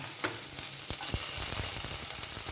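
Onions, curry leaves and green chilies fry loudly in a pan, a dense continuous sizzle with crackling pops and brief stirring scrapes, heard close and alone.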